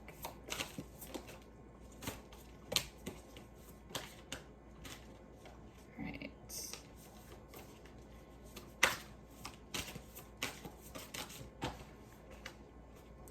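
Tarot cards being shuffled and handled during a pick-a-card reading, a quiet steady run of soft papery riffles and flicks with a few sharper snaps, close up and without talk.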